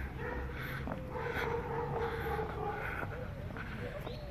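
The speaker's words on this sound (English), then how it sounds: "They have a girl walking her dogs." Dogs on a street in Guadalajara give short yips and whimpering barks, scattered and fairly faint, over steady outdoor background noise and a voice.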